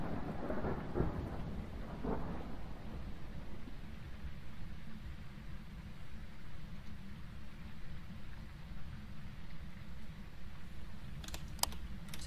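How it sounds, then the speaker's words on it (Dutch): Low rumbling thunder from a stormy night in the ghost-hunting game Phasmophobia, a steady roll with rain-like hiss lasting throughout, with a few sharp clicks near the end. "Ook onweer."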